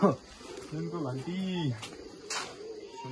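Pigeons coo softly at Siddhakali temple in Bhojpur, a few low throaty warbles close by, mixed with faint background clatter and talk.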